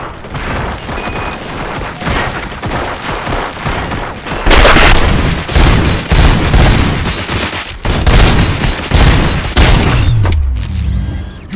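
Heavy gunfire erupts after an order to fire at will, dense rapid bursts and booming shots pounding continuously for several seconds, loud and close, ending with a mechanical whir.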